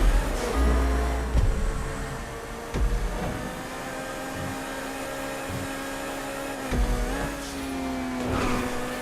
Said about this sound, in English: Hear that intimidating engine roar behind me.